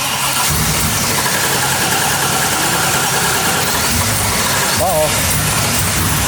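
A home-built supercharged LS engine in an R34 Skyline cranks, catches and settles into a loud, rough idle close by, with voices over it.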